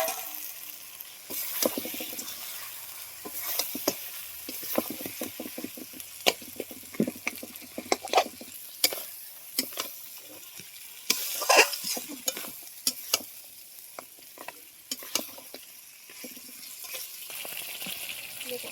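Crab and fish head frying in a pan while being stirred, giving a steady sizzle broken by repeated scraping and clattering strokes of the spatula, close and fairly loud, with no talking.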